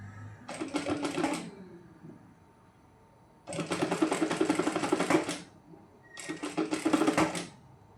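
A sewing machine stitches cords onto a neck design in three bursts of rapid mechanical whirring, the first short, the second longest, with quiet pauses between, close and clear.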